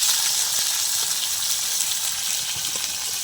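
Torn chillies, chopped onion and a splash of oil sizzling hard in a hot pan, a steady, loud, hissing fry that fills the whole moment with no voices.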